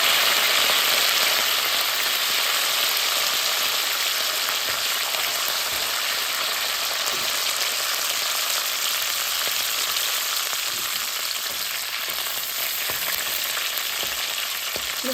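Garlic, dried red chillies and curry leaves fry in hot oil with a loud, continuous close-up sizzle that holds steady throughout, with no talking.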